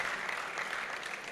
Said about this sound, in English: Please, a round of applause as he steps forward.